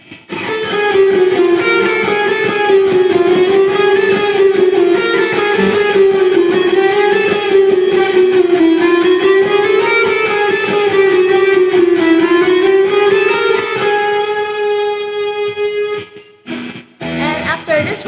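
Guitar playing a fast Flight of the Bumblebee passage, a continuous stream of rapid notes wavering up and down, close and fairly loud, ending in a few brief choppy sounds.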